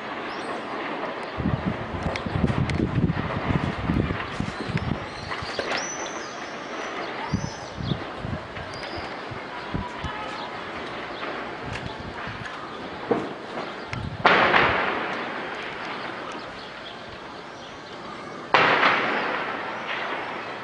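Mortar and rocket shelling strikes the Jouret al-Shiyah district of Homs, heard as scattered outdoor booms and sharp cracks of varying distance, with two louder blasts later on and background crackle between them.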